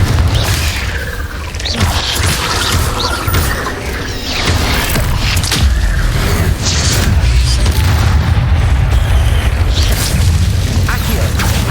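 Confringo explosion spells from a Harry Potter video game burst in dense, repeated booms and crashes, loud and layered over game effects throughout.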